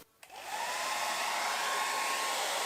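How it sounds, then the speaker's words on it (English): A blow dryer set low and warm drying watercolour paint, a steady close airy whoosh that starts after a brief click and holds evenly to the end. "I don't want the blow dryer on full because I don't want to blow the paint all over the place."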